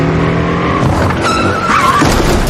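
A car skids hard to block someone in a film scene, a loud burst of tire squeal and engine noise that rises, breaks off briefly, then screeches again close by.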